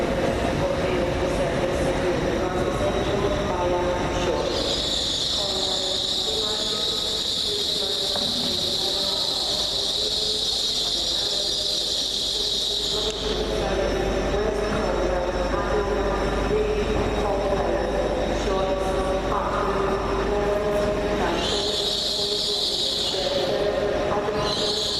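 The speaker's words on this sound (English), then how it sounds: "Behind me is this Lumo train. We filmed that coming in." A Lumo train arriving at Reston station rumbles and hisses nearby, with sustained high-pitched squeals from the wheels or brakes coming and going as it moves slowly.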